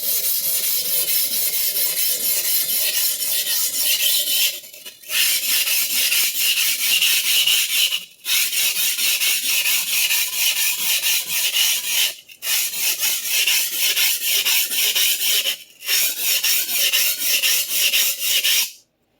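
A steel Clyde Cutlery chef knife is drawn over a sharpening stone in long steady grinding strokes to put a finer bevel on the blade. The rasping is loud and close, broken by three or four brief pauses, with no voices.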